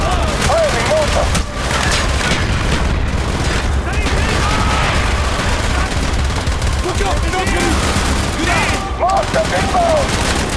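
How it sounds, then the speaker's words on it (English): Mortar fire and rapid gunfire in the video game Call of Duty: Black Ops, with dense, continuous loud bursts and booms under shouted voices in a chaotic battle. "Firing mortar!"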